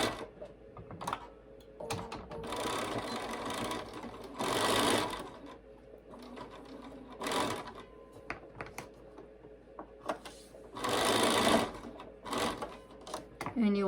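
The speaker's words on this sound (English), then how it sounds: "So let's go ahead and stitch this." A sewing machine stitches pieces of a quilt block together in rapid bursts of whirring, mechanical clatter, with short pauses between runs; the bursts are close and fairly loud.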